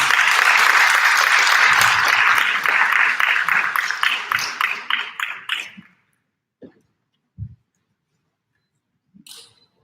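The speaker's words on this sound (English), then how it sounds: "Please give applause once more." Audience applause at an academic research conference, loud sustained clapping that thins out and dies away over about six seconds, followed by a few isolated soft thumps and clicks in near silence.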